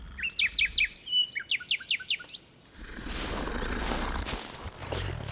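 A magical bird in a cartoon chirps in a quick series of bright, high, close tweets in two bursts. A broad whooshing wash of noise follows.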